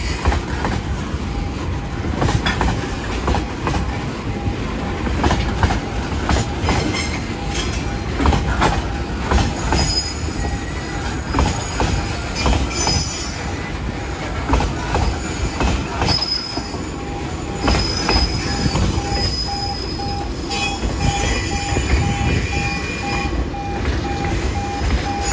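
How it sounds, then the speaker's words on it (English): A slow train rolls past a road crossing, steady rumbling wheels with squeals and clickety-clack beneath a continuous crossing bell ding, sustained and fairly near for the whole stretch. "And it's a slow train."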